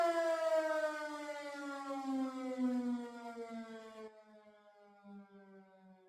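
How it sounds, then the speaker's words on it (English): An industrial plant alert siren wails with a steady rising-then-falling harmonic tone, loud and alone, then drops in pitch and fades toward the end. "The following is a typical example of a siren sound."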